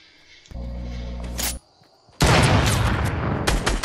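Video game gunfire erupts in loud bursts: a booming low blast, a short pause, then a rapid fusillade of shots continuing to the end.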